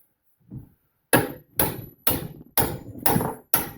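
Six sharp taps of a small hammer on Mustang II front suspension parts, evenly spaced and close, following a soft knock, with silence between strikes.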